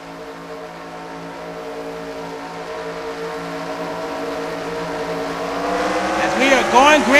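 Several NASCAR Nationwide Series stock cars roar at Charlotte in a racing video game, a dense engine drone that swells louder toward the end as cars sweep past with rising and falling pitch.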